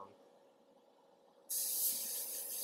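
An airbrush starts spraying paint onto miniatures as a base coat, a sudden loud steady hiss that cuts in after a quiet pause and holds evenly to the end.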